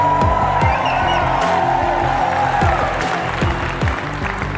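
Steady, rhythmic clapping hands at a motivational talk, loud and close, with a voice speaking over the claps throughout.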